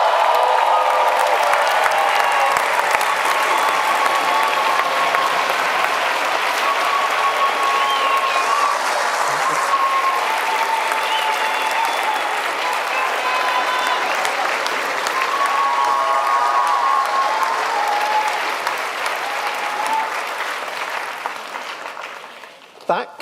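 A large graduation audience at Brighton and Sussex Medical School applauds and cheers a graduate in sustained, dense clapping that stays loud for about twenty seconds, then tapers off toward the end.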